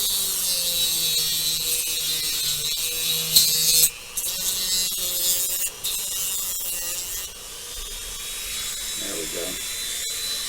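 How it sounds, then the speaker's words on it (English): Dremel rotary tool grinding a plastic MPC X-Wing Fighter model kit part, a high whining buzz that runs steadily with brief stops and pitch dips as it bites, with a voice talking briefly over it. "the Dremel I'm just using to get the mask part off"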